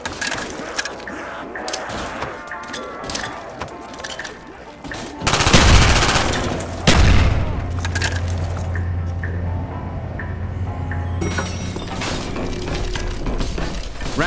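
Rapid gunfire in a Call of Duty zombies map, with dense bursts of shots and shattering impacts that become loud and sustained midway, then continue as busy game action.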